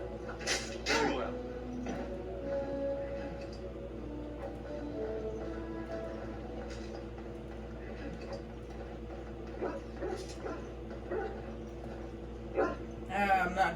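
Dogs barking and yipping in the Dragon Age Origins video game, several short scattered yaps over a steady game ambience with music, with people speaking throughout.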